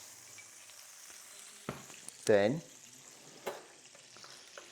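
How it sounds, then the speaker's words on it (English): Butter hits a hot non-stick wok and sizzles in a short, loud burst, set among quieter kitchen clatter and a brief word of speech. "I'm going to put in a little bit of butter."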